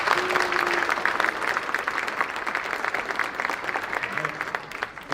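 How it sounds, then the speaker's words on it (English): Audience applause at a spelling bee for the third-place finisher, a dense steady clapping that fills the whole stretch at even loudness, with a brief voice surfacing near the start. "let's give an extra loud applause to Haley Betcher"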